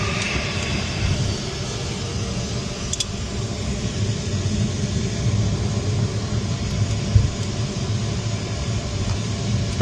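Falcon business jet taking off from a runway, a broad steady jet roar that holds at a constant level for the whole stretch, with no voices.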